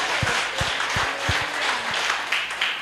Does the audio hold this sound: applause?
yes